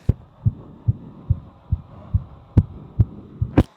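Quick, regular heartbeat after a calisthenics floor combo, about ten thumping pulses in under four seconds, close and heavy over a low hum.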